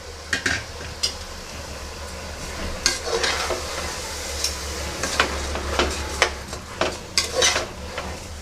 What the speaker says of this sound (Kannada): ಅಕ್ಕಿನೂ ಸ್ವಲ್ಪ ಫ್ರೈ ಮಾಡ್ಕೊತಾ ಇದ್ದೀನಿ.